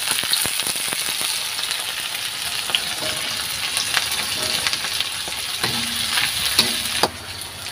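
Ingredients including tempeh sauté in a frying pan with a steady, fairly loud sizzle and scattered scraping and stirring clicks, no voices.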